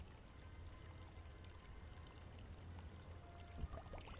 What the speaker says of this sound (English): I filled the bottle with water from the fountain.